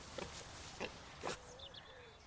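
A pig gives a few short, faint grunting oinks, spaced apart over quiet background noise.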